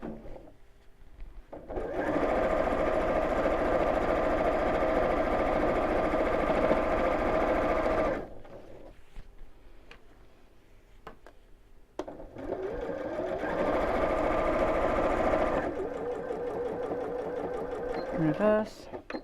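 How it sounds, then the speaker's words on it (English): A sewing machine stitches a Card Trick quilt block in two long, steady runs of fast mechanical whirring, separated by a quieter pause, with a voice speaking between and around the runs. "And sew from the edge."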